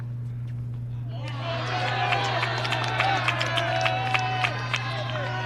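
Applause rises from spectators at a high school boys tennis match on an outdoor court, a moderate scattered clapping that swells and holds under a steady low hum.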